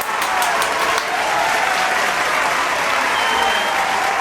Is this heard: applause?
yes